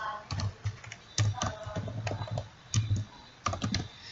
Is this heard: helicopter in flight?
no